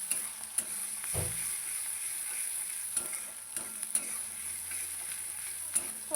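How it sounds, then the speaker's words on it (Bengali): Onions and green chillies frying in oil until reddish, a low steady sizzle with occasional sharp clicks of a spatula stirring against the pan. "একটু লাল লাল করে ভেজে নিই"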